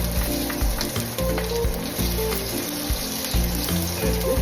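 Garlic hits a very hot wok and sizzles loudly and steadily, a dense continuous crackle with a few stirring bumps underneath, close up and with no voices.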